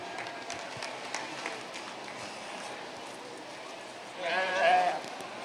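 A sheep bleats near the end of a wether dam show ring at the Missouri State Fair, one short loud call rising over a busy background of crowd murmur and an announcer's voice.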